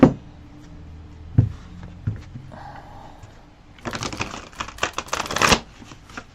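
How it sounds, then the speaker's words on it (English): A deck of cards shuffled by hand, with a few sharp taps and then a quick burst of riffling flutter, close up and alone. "This deck is easier to shuffle when I have this version."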